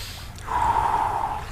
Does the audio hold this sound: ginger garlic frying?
no